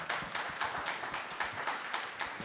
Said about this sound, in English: Both these guys got claps